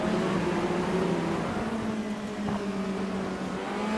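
Formula Renault race cars run together in a close pack, their engines giving a loud, sustained, overlapping drone. The pitch holds fairly steady with slight shifts, and no one speaks over it.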